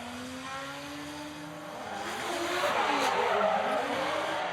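JZ-powered S chassis drift cars in a street drifting event roar past with rising engine revs, then break into a loud, sustained tire squeal as they slide through.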